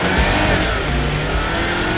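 A Golf 8 GTI and a BMW 128ti accelerate hard from a standing start in a quarter-mile race, engines revving loud and rising in pitch, close and continuous.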